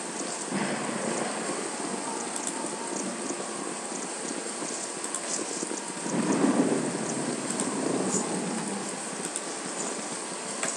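Steady rain fills a Baldur's Gate game scene with a continuous wash of noise, and a low thunder rumble swells for a moment near the middle before settling back into the downpour.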